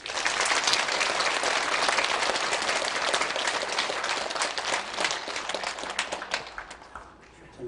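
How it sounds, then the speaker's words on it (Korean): An audience at a Buddhist dharma talk breaks into loud, dense applause that holds strong for several seconds, then thins into scattered claps and fades toward the end. "네, 박수 한번 주세요."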